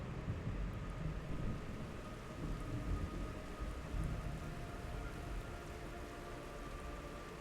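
Steady rain with rolling thunder in the video game Metal Gear Solid Snake Eater, a dense continuous downpour with low rumbles throughout.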